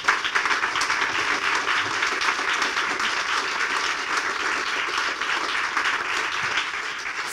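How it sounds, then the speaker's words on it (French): Sustained applause from an audience at a French gynecology round-table event, dense and steady, filling the room for the full stretch without any talk over it. "je pense qu'on peut l'applaudir"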